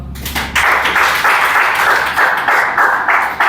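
Applause from a classroom group at a police recruitment exam coaching session, steady clapping that starts after a brief pause and holds at a fairly loud, even level to the end.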